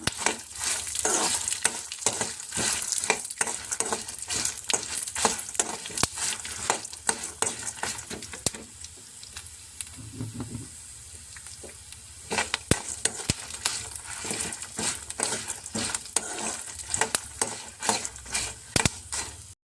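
Garlic slices fry in a pan while a spoon stirs them, giving a steady sizzle under frequent sharp scraping and clinking strokes, with a quieter stretch midway.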